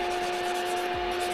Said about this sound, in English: So I'm gonna use our buffers, which are 150 grit, yes.